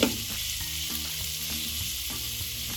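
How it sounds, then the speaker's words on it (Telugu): Sliced onions sizzle and crackle in hot oil in a pan after salt goes in, a steady close frying hiss with faint stirring scrapes under it and no talk. "వేగుతున్న ఆనియన్స్లో 1/2 టేబుల్ స్పూన్ సాల్ట్ వేసుకున్నాం."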